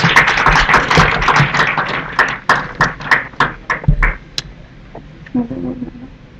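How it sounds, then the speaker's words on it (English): An audience applauds a guest lecturer at a lecture on ASP.NET, a burst of claps that thins into a few scattered, distinct hand claps before fading out. "Guys, please give a huge round of applause."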